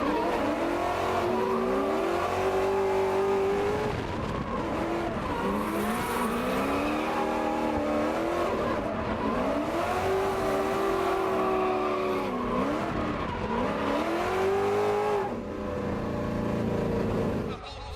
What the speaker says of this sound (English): Let's jump on board with Levi Clark first for his chase run behind Bo Yates.